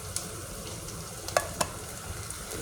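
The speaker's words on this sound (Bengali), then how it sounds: "পেঁয়াজ রসুনটা ভাজা হলে এখানে রান্না করবো টোনা" Onion and garlic frying in a pan for a tona dish, a soft steady sizzle with a few sharp clinks of stirring, close by and with no talking.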